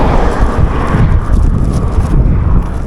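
Loud, roaring wind buffeting the microphone continuously during a night walk, a heavy rumbling gust with no let-up.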